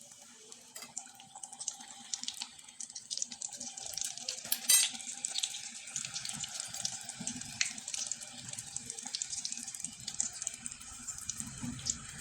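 A flour-and-egg pitha fries in hot oil with a quiet, continuous bubbling hiss and scattered light crackles, with no talking.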